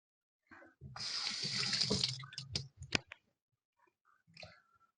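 Tap water runs over potatoes in a sink for a quiet rinse, a close, steady rushing splash for about two seconds, followed by a few wet knocks and light handling sounds.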